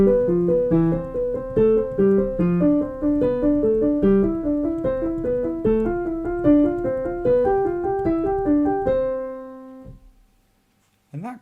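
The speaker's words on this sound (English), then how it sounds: "we might try to emphasize the descending notes so that we can hear them louder than the repeated note at the top of the pattern" A warmup pattern for a Handel Gavotte practice: quick repeated top notes alternating with accented descending notes in a steady rhythmic sequence, closing on a held note that fades to silence.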